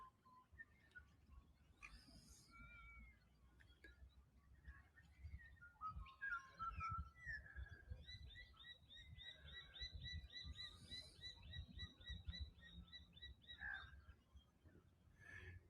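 Black-winged stilts call from a mangrove bay, a series of faint, thin whistling and yapping notes at a distance over soft outdoor background hiss.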